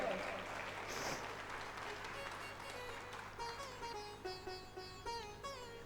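A seated audience at a Ram Katha religious discourse claps in a faint, steady wash of applause for a few seconds, then a voice and musical tones take over as the clapping fades.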